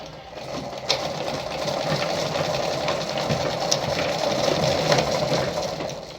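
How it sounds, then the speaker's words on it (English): A Lada model 237-1 sewing machine runs steadily as it sews through fabric, a continuous close whirring and rattling hum that holds level for several seconds with no talk over it. "so when you sew through"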